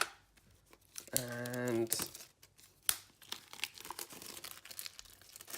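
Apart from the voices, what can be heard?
unwrapping cellophane from a Warhammer box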